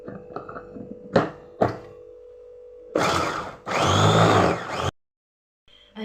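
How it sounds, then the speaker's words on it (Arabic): An electric blender grinds garlic cloves in two loud bursts of whirring, with a few sharp knocks and thumps beforehand and a quieter tail after. "غادي نبلع عليهم ثاني نعاود نطحنهم من جديد"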